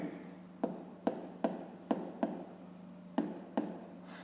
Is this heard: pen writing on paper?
yes